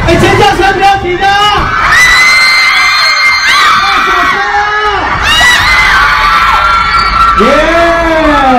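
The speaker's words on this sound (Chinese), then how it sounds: "尖叫声不要停的" Fans at a boy band's autograph-signing concert at a SOGO department store in Zhongli scream, cheer and whoop continuously, a loud dense crowd with shrill children's and young voices rising in waves throughout.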